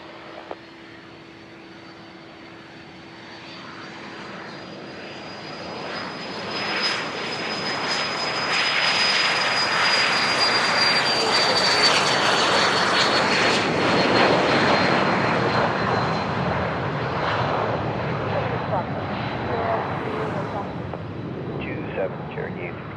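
A private jet takes off at Van Nuys Airport, its engine roar swelling from a distant whine into a loud, broad rumbling blast that peaks midway and lingers as it climbs away.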